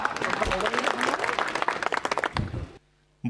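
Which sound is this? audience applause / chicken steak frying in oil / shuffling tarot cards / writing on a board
audience applause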